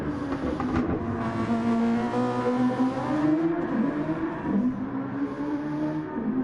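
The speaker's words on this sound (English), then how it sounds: "can hear them spinning up when he's coming out the corner, a little bit too much power" A Super Formula race car at Suzuka spins its tyres while powering out of a corner. A loud, steady engine drone wavers in pitch as the wheels slip, with no talk.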